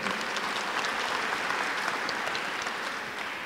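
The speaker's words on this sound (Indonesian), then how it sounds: "Tepuk tangan untuk kita." Applause at a university graduation ceremony (wisuda) in Berastagi, a dense, even crowd clapping that holds steady throughout and tapers very slightly at the end.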